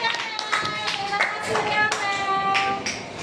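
A school class clapping hands together in a classroom, a brisk patter of many small hands close by, with children's voices and a ringing tone running underneath.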